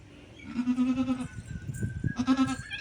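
A newborn goat kid bleats twice, close and fairly loud, with quieter rustling and handling noise around the calls.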